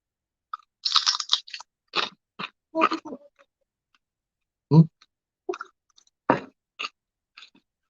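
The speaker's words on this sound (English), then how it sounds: "So we'll put it on the old cheesy chip again." Close, crisp crunching bites into a cheesy chip topped with hot sauce, a quick burst of bites followed by scattered loud chews separated by short silences.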